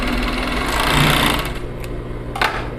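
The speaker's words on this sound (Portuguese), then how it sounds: "E essa é a costura de overlock" An overlock sewing machine running steadily as it stitches a seam on a V-neck blouse, a close, continuous mechanical whir that dips slightly toward the end.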